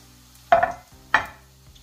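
Eggplant pieces dropped into hot oil give two short bursts of sizzling and bubbling about half a second apart, fading quickly over a quiet background.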